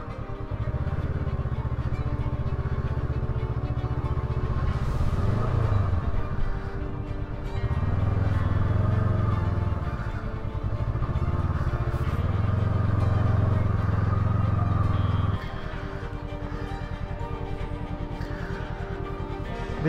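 A motorcycle engine idles and revs in low rumbling surges, then cuts out, leaving background noise and faint voices.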